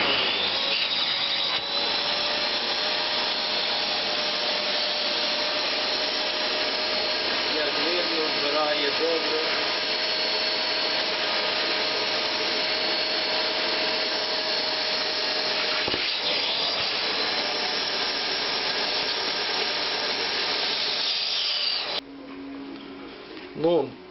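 A loud, steady whine of a Zelmer VC 7920 washing vacuum extracting water from a rug runs almost continuously, drawing water with a harsh suction roar, then cuts off near the end.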